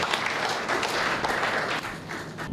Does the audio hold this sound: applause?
yes